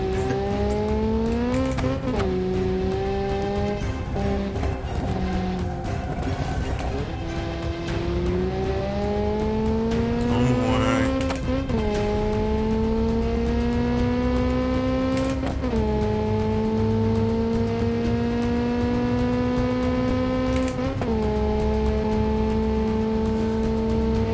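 Nissan 240SX engine in the BeamNG.drive driving game, loud and continuous, its revs climbing and then dropping sharply at several downshifts while the car brakes and accelerates.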